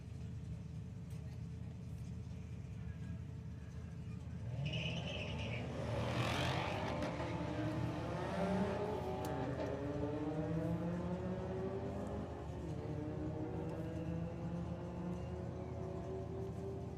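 Drag racing cars launch down a strip at a sportsman nationals street meet, one of them a little Ford Cortina Mark 1, heard as a distant engine roar that builds and sweeps past over a steady rumble of background noise.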